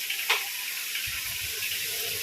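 Onions frying in a pan for a Bengali fish curry give a steady, soft sizzling hiss, with a brief louder crackle near the start and faint low clatter later.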